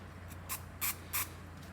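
An aerosol can of dye penetrant developer is sprayed onto a rag in three short hissing bursts, the first briefer and the last two longer, over a low steady background hum.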